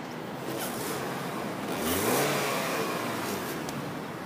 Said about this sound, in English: I'll let you hear the car accelerate once.